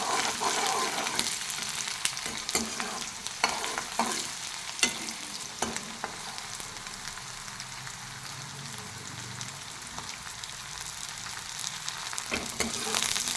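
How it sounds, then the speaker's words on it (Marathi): Chopped onion sautéing in a pan for green chili pithla, a steady close sizzle with repeated stirring scrapes throughout, no voices. "कांदा चांगला परतवून घ्यायचा आहे आपल्याला"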